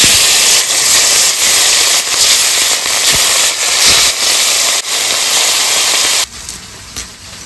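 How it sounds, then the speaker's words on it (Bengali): Loud, steady sizzling and crackling of hilsa fish frying in hot mustard oil in a kadai fills the clip, with scattered pops, then drops off sharply near the end. "আমি মাছগুলো ভেজে নিই।"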